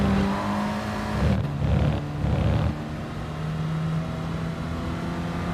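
A Clio Cup race car engine in a racing video game at the Red Bull Ring, revving up and down through quick gear changes mid-corner, then settling into a steady drone.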